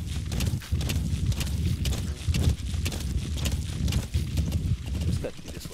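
Horse hooves clip-clopping in Metal Gear Solid 5: The Phantom Pain, a quick, steady rhythmic trot of thudding hoofbeats, close and continuous, with a voice talking over it.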